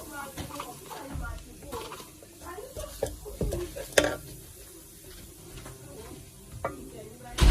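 Onions tipped into a hot pot for a vegetable stew crackle and sizzle, with scraping stirs and light clinks of a utensil against the pot, close by and moderately quiet, with no voices heard.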